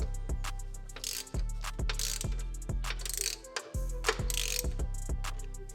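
A ratchet spins in the upper bolts on a 1967 Pontiac GTO, a run of rapid, close clicking bursts repeated about a dozen times with short pauses between, loud and clear with no talking.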